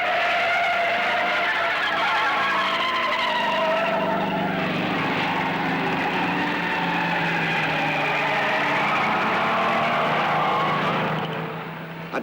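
Mercedes team race cars passing at the 1952 Le Mans 24 Hour race, a loud sustained engine roar that swells and shifts in pitch as the cars go by, then fades at the end.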